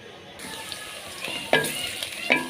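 Chopped onions sizzle and fry steadily in hot oil for an aloo gosht, with a few sharp clinks and scrapes of stirring, close up and moderately loud.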